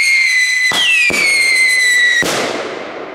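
Polish Thunderking firecrackers going off outdoors: a loud shrill whistle runs throughout, cut by three sharp close bangs, with the last blast's noise trailing off.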